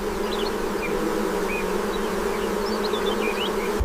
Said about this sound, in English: Tiny insects can become a relentless source of suffering.